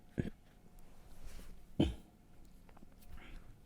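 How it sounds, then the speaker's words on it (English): A person clears their throat twice in a quiet room, two short, close rasps about a second and a half apart against faint background hiss. "clear my throat"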